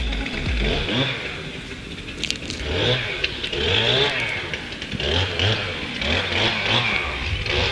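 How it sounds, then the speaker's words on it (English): Chainsaw-like engine cutting wood at a car wreck site, a rising and falling motor drone with repeated revving surges, fairly loud and continuous throughout. "So now someone is cutting wood."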